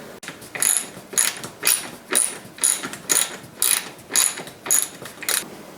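A ratchet wrench with a 1/2-inch socket tightens a bolt through a Mounting Dream MD2418-MX TV wall mount backing plate into drywall, giving eight or nine evenly spaced, close clicking bursts of roughly equal loudness.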